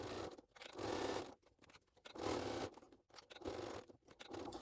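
A sewing machine with a narrow gauge foot runs in short, close bursts as it stitches a seam and backstitches, each burst of rapid whirring separated by brief pauses.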